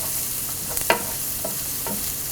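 Jackfruit seeds stir-fried with garam masala and chilli powder hiss steadily in the pan while a spatula scrapes a few times, one clack standing out, close by with no speech.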